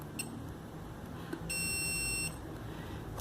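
A digital multimeter in continuity-test mode gives a single steady electronic beep lasting under a second, preceded by faint clicks of the probes touching, with a quiet room in the background.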